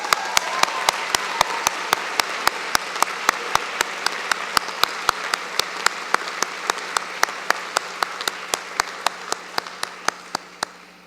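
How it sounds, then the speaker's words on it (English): Applause from a convocation audience for student award winners comes as a soft, even wash of clapping, while sharp, evenly spaced clicks tick steadily through it. The whole sound tapers off gently at the end. "Let's have another round of applause for our student award winners."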